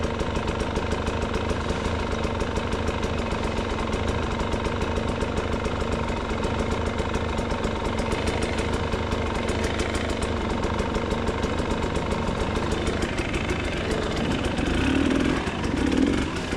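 A trail motorcycle with no cooling fan sits idling out on a trail ride, its engine putting out a steady, close, even mechanical putter that holds unbroken throughout, with no talk over it.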